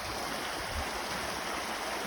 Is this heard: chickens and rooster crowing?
no